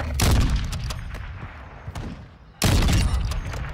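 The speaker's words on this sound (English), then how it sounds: "Friendly mortar strike on the way." A friendly mortar strike in Call of Duty Modern Warfare 2 multiplayer lands in two loud, deep explosions a few seconds apart, each with a long rumbling decay and scattered cracks of distant gunfire between them.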